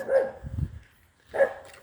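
A dog gives two barks about a second apart, moderately close, with a low rumbling noise between them and no speech.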